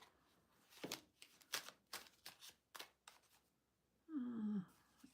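A deck of cards is shuffled at a live tarot-style reading, giving a series of crisp riffling bursts in quick succession, close and fairly quiet, ending with a brief tonal squeak.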